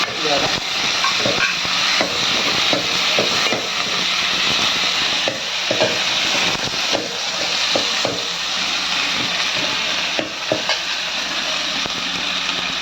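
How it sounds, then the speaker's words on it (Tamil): Tomatoes frying in a pan for a fish curry, a steady loud sizzle and hiss running throughout with occasional stirring scrapes, a voice speaking over it at times. "தக்காளி 5 நிமிஷம் வதங்கினா போதும்."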